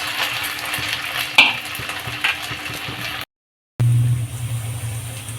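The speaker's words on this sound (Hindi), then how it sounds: "थोड़े से ऑयल में इसको फ्राई करेंगे।" Sabudana vada fry in a little oil in a pan, a steady sizzle broken by a few sharp clinks and stirring sounds. After a short silent gap a louder, fuller sizzle comes back.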